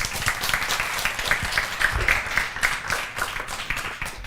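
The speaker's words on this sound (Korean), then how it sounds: "박수 치시죠." Audience applause at a Korean political speech, steady dense clapping throughout at moderate loudness.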